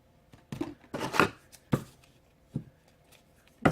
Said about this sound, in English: I'm going to cut it and cut off